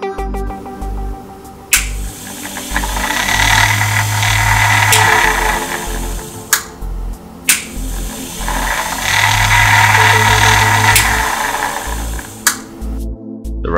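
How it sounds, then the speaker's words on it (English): A DC motor under ramp control reverses direction smoothly, giving a loud, steady mechanical whir that swells and eases with a few sharp clicks and knocks between runs, with no talking. "Notice how the motor changes direction much smoother than before."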